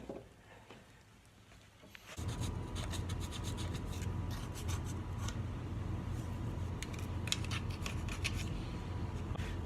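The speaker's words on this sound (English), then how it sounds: "after you scraped off all the old gasket material" Old gasket material is scraped off a Perkins 152 cylinder head from a Massey tractor, with a steady rasping scrape that starts after a short quiet pause and then runs on close and continuous.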